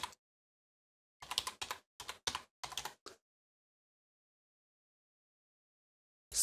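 Close, crisp computer keyboard typing comes in a short cluster of quick keystrokes in the middle, set against silence, with one more tap at the very end.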